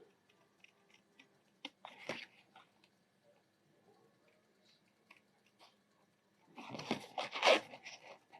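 Paper being cut by hand while making a mini album, with a short snip burst near the start and a louder, denser run of cutting and rustling at the end, close and otherwise quiet.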